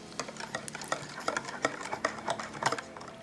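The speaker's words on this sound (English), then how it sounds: "Now let's get this all whisked together." Pumpkin pie filling of sweetened condensed milk, eggs, pumpkin pie spice, vanilla and salt is whisked in a bowl. Quick, uneven clicks and taps of the whisk follow one another close up, with no speech.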